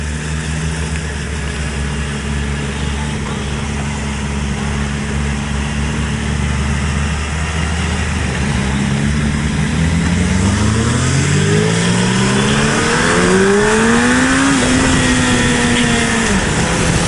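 A 2008 Suzuki Hayabusa motorcycle engine runs loud and close, idling and then revving up through rising whines before easing off, with steady wind rush throughout.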